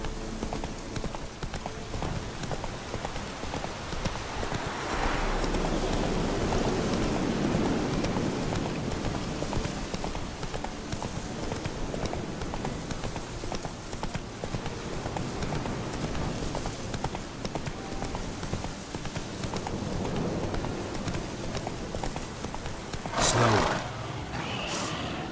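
Horse hooves in The Witcher 3 thud along in a steady clip-clop rhythm under a continuous wash of outdoor ambience, with one brief sharper knock near the end.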